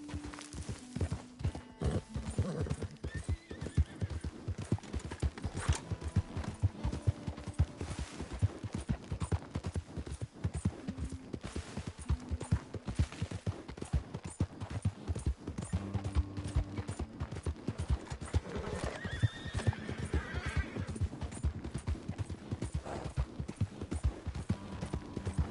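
In Red Dead Redemption 2, hooves clop in a steady rapid galloping rhythm for the full stretch, close and clear, with a brief whinny-like sound partway through.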